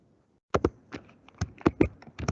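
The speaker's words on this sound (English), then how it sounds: "I think somebody's typing on their computer." Typing on a computer keyboard during an online committee meeting, heard as a close run of sharp, uneven key clicks and taps with short pauses between them and no voices over it.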